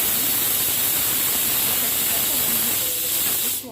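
A pressure cooker cooking mixed dal lets off its whistle, a loud, close, sustained steam hiss lasting several seconds before tailing off at the end.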